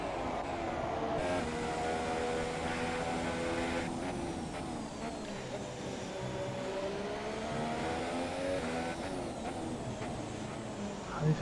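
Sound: Ferrari and Haas race cars in a racing video game

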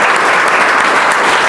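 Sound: audience clapping at a prize distribution

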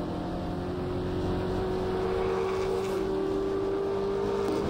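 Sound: NZV8 race car engine, onboard at Ruapuna Park

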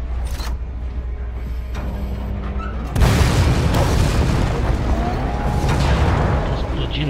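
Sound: explosions in video game Resident Evil 2 Remake

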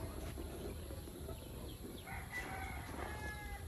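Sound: rooster crowing

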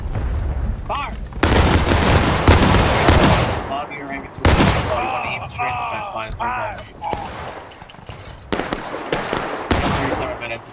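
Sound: musket volley fire in video game

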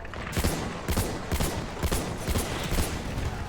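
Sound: gunfire in video game Battlefield 1

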